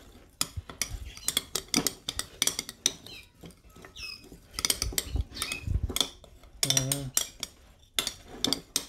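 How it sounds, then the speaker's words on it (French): A spoon stirs and clinks against a dish while mixing egg food for canaries, with repeated scraping and tapping strokes close by; bird chirps and brief talk appear in between. "Je prends une cuillère, je le mets dedans. Hop, et maintenant je mélange la perle de Mambit."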